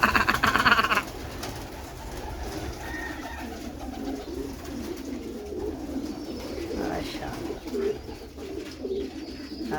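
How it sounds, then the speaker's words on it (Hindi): Pigeons cooing softly as they come indoors to eat grain, low repeated coos under a steady background murmur, with a brief louder burst at the start. "चिड़िया भी अंदर आ जाते हैं,"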